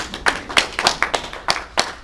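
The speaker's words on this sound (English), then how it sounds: "Give him a round of applause" Small-group applause at a Barbados insurance company charity donation event, sparse individual claps in uneven bursts, fairly close, with no speech over it.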